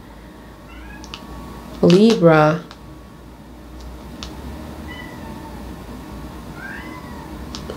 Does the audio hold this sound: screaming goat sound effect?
no